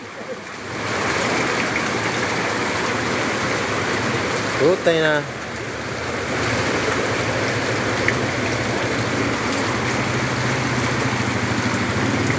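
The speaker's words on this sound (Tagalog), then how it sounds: "Nag-bounce back na yung tubig sa drainage." Floodwater surges back up from a street drain during heavy rain in Taguig, Philippines, a loud continuous rushing wash that fills the whole clip, with brief voices and a sharp sound near the middle.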